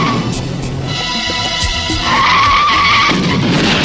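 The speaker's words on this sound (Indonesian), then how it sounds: "mobil polisi mengalami kecelakaan kecil demi menghindari seorang bocil" Police car skidding in a minor accident while swerving, tires screeching in a sustained squeal that rises and grows louder near the end over engine and street noise, with no talking.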